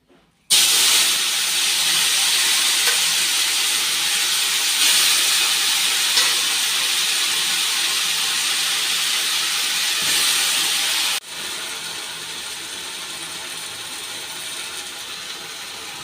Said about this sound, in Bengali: এখন পাট শাক ভাজা হবে।